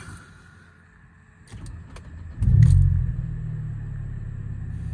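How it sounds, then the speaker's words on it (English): A 2006 Mercedes SLK 200 automatic cranks and its engine catches with a loud low burst, then settles into a steady, fairly loud idle rumble close by. Faint clicks come just before the start. "So let's start the car up."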